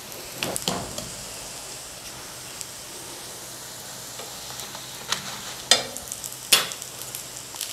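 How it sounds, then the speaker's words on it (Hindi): Besan paratha cooking on a pan over a slow flame gives a soft, steady sizzle with light stirring or scraping noises and a few sharp clicks and taps near the end. "थोड़ी स्लो फ्लेम पर आपने रोटी पकानी है।"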